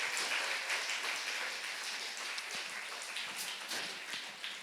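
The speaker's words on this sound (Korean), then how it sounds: "박수 한번 더 크게 주시기 바랍니다." A church congregation at a Sunday worship service claps in sustained, dense applause, loud at first and tapering slightly, with no voices over it.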